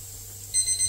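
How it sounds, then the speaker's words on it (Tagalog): A kitchen timer alarm goes off after a 60-minute countdown while green papaya chicken soup simmers, sounding as a sudden loud high-pitched beeping pattern that breaks a quiet background. "13 seconds na lang para matapos yung ating inilagay na timer na 60 minutes. Pag tumunog yan, papatayin natin yung apoy."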